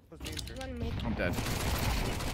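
Rapid gunfire in CS2 as a whole magazine is emptied, a dense fusillade of shots running continuously and loud, with a voice briefly audible at the start.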